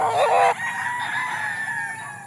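An older farm rooster crows loudly and close, a strong opening burst that drops into a long, steady drawn-out tail, with no voices over it.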